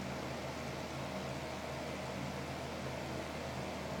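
Steady low whir and airy hiss from an Impress 1500 watt two-speed fan heater running on its lowest heat setting, a faint constant hum with no change, heard close and alone.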